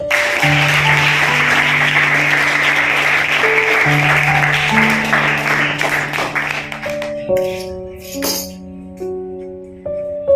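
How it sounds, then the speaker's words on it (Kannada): A classroom of students claps loudly and steadily for several seconds, mixed with sustained keyboard notes, before the clapping fades and the melody continues alone. "ಚಪ್ಪಾಳೆ ಬರಲಿ ಜೋರಾಗಿ."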